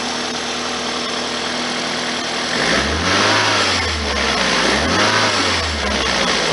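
Engine of a 1999 Toyota Celica ZZT231 with a cold air intake and a suspected air leak at the filter, idling loudly up close with a steady hiss, then revving up twice in swelling surges.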